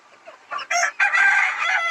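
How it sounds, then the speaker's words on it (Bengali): Tiger and Fayoumi chickens kept in a small shed as desi poultry crow and cluck close by, a loud drawn-out call rising after a few shorter clucks, with no talk over it. "এই যে উপরে আমার কিছু মুরগি আছে এগুলো কিছু টাইগার আছে কিছু ফাওমি"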